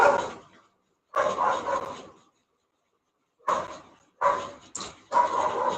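Several dogs bark in short clustered bursts separated by silent gaps, fairly close and loud, heard alone with no talk.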